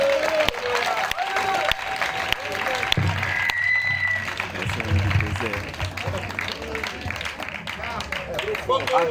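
A church congregation applauds and cheers, a dense, sustained wash of clapping and crowd voices that stays loud throughout, with speech mixed in over it.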